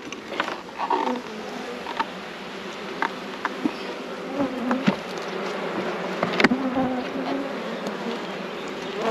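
Honeybees buzz steadily around an opened hive during a fix for a drone-laying queen, a dense close hum with scattered bumps and handling knocks, no talking.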